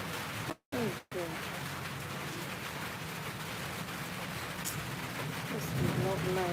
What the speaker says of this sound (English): The rain is back.